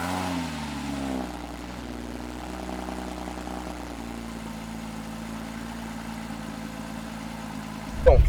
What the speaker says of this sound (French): je vais installer la caméra à l'arrière pour vous faire écouter le son de ce doux véhicule